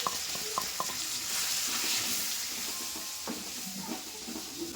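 Greens with chili powder and sambar powder fry lightly in a pan, a soft continuous sizzle with faint scraping and stirring taps throughout, no talking.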